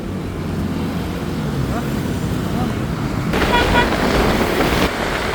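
Race cars accelerate from a flying start at the Kamisan Race, a dense roar of engines that swells louder toward the end, with a commentator talking excitedly over the noise.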